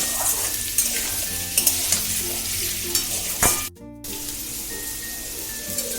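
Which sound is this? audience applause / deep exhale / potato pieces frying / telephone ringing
potato pieces frying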